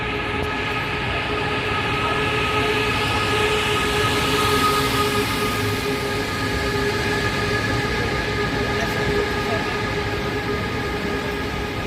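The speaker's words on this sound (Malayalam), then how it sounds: "മദീനയിലേക്കുള്ള സ്പീഡ് ട്രെയിനാണ് പോകുന്നത്." A high-speed train bound for Medina rolls into a railway station with a loud, steady rumble and a sustained tonal hum and whine throughout, with faint voices in the background.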